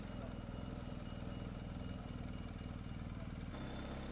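A 2020 BMW R1250 GS motorcycle rides through a small village, its engine giving a steady, close, throbbing drone that drops to a lower note near the end.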